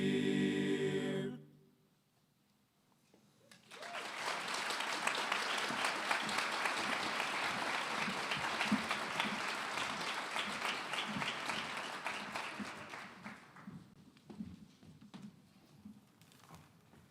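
Audience applause breaks out after a sung hymn at a presidential address. The singing ends, a brief hush follows, then broad, sustained clapping swells, holds steady and tapers off slowly.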